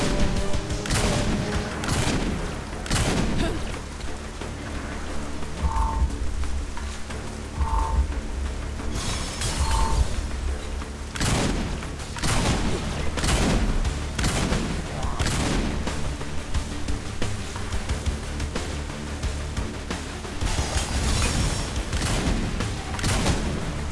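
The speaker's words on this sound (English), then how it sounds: "I'm liking the shotgun so far." Shotgun blasts in the video game Saints Row IV, a long run of loud, punchy shots at an irregular, fairly quick pace, heard alongside other game action and croaking creature-like noises.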